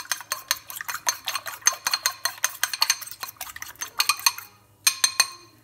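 Four eggs beaten in a bowl while making Chinese fried rice (chaufa), a quick rhythmic clinking of a utensil against the dish, steady and close, with a brief pause before a final burst.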